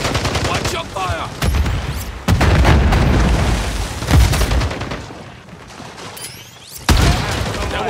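A grenade goes off amid heavy multiplayer gunfire in Call of Duty Modern Warfare 3, booming blasts and rattling automatic shots layered over the game's radio voice callouts, loud and dense throughout.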